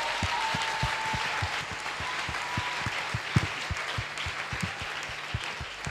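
Church congregation at a French-language seminar breaking into applause, a dense steady wash of hand clapping with sharp individual claps standing out, continuous and fairly loud throughout.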